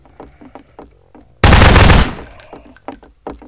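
Gunfire from the video game Garry's Mod Prop Hunt breaks out as a loud, dense burst of rapid shots lasting about half a second, set between quieter game sounds with no talking.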